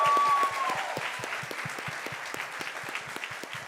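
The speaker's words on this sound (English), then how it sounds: "let's give a round of applause to Logan and Luca" An audience at an Aspen mastermind gathering breaks into sustained applause, with dense, even clapping from a room full of people that carries on for several seconds and gradually softens.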